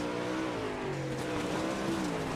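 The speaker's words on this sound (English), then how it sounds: "Love the sights and sounds here on the dirt racing surface." Race cars corner on a dirt racing surface, their engines a moderate steady drone with slowly shifting pitch, heard at some distance over broad noise.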